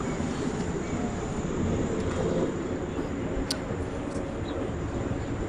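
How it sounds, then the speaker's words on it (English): A continuous broad roar of aircraft passing overhead in the sky, steady and fairly loud with no talking, heard from outdoors during live coverage of a Middle East conflict. "I'm hearing some airplanes or something going on up in the sky there"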